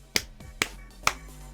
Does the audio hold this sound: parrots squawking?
no